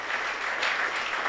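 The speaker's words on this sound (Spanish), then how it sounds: "Demos un fuerte aplauso al Señor." A church congregation gives the Lord a loud round of applause, a dense, even wash of clapping close by with no pauses and no speech.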